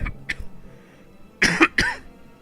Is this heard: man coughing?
yes